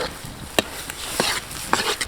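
Chilli beef being stirred in a pan with soy, chilli and tomato sauces, a soft wet scraping under low sizzle, punctuated by several sharp clicks of the spoon against the pan.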